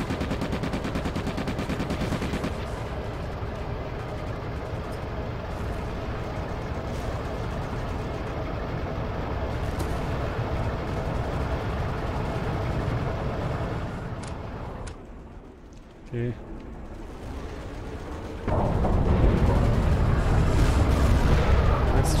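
Sustained gunfire and heavy explosions hammer a depot in a tank battle video game, loud and dense throughout, dipping briefly before a louder burst of blasts near the end.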